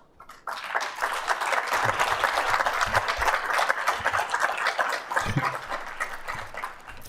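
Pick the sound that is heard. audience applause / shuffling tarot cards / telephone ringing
audience applause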